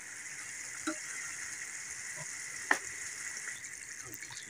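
Steady, soft sizzling of chicken frying in a pan for karahi, with a couple of faint clinks and stirring sounds, no voices.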